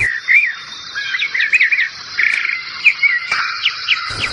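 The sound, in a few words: small birds calling in the Pantanal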